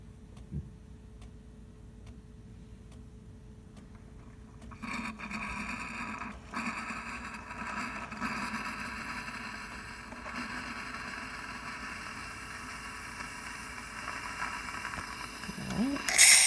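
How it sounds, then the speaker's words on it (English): A Delonghi Magnifica S espresso machine running with low pressure lets out a steady, broadband steam hiss that starts abruptly after a few seconds of quiet and holds fairly loud to the end, with faint ticking before it. "Now some steam."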